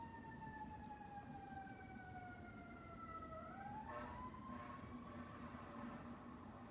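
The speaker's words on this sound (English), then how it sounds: "the fire trucks are going off right now" Fire truck sirens wailing outside, their pitch sliding downward as they pass, then shifting tone; somewhat distant over a steady background hum.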